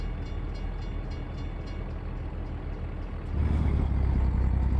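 A freight train rolling on rails in American Truck Simulator, carrying trailers on its cars, with a steady low rumble that swells louder near the end, heard alone.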